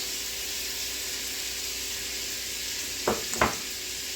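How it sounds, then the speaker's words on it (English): Carrots, celery and onions sauté in a soup pot with a steady, even sizzle, and near the end two quick scraping stirs cut briefly through the hiss. "We're gonna saute this for about 5 to 7 minutes, enough to get it softened."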